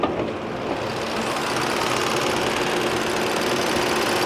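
Engine of a 2018 Ford Taurus Police Interceptor idling, a steady, smooth, even hum heard up close and alone with no knocks or clunks.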